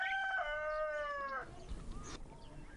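A rooster crows loudly and close among chickens, one long drawn-out call that ends abruptly, followed by faint clucking and farmyard noise.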